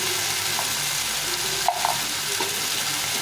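Ground spice paste frying in a pan for a soya bean curry, a steady broadband sizzle with a few soft stirring scrapes and clicks on top, close and even throughout, no voices.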